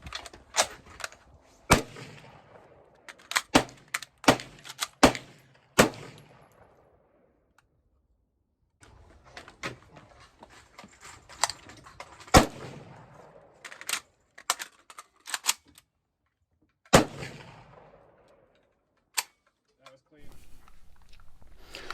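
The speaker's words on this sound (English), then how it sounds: "Let's go ahead and start putting these things to work shooting." AK rifles fire in a series of sharp, loud single shots spaced irregularly, with pauses and clicking handling noise between volleys; no talk during the shooting.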